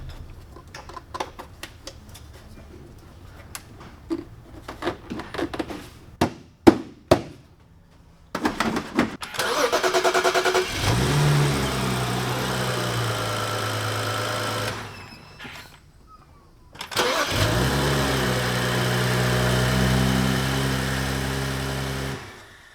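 A Porsche 911 Turbo S after air box work: clicks and taps, then the engine cranks, fires and settles into a steady idle, cuts briefly, and starts again to idle loudly.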